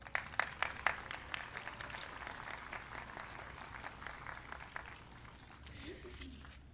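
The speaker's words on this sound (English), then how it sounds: "Give yourselves a round of applause." Kindergarten graduation crowd at an elementary school applauding, a few sharp nearby claps at the start blending into steady, fairly quiet applause that thins toward the end.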